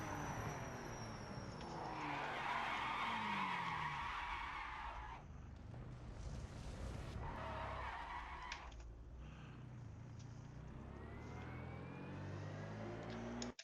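A GT4 race car in a racing game, cranked hard through a turn at speed: its tires give a loud, sustained squeal with engine noise underneath, fading into quieter driving.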